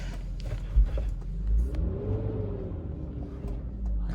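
A BMW E46 with a five-speed manual gearbox pulling away, its engine rumbling and rising in pitch as it accelerates, heard steadily from inside the car without talk.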